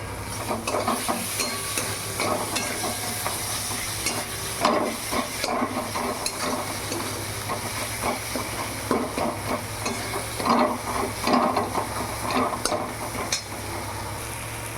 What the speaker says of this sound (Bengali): মশলাটা আমার ভাজা ভাজা হয়ে গেছে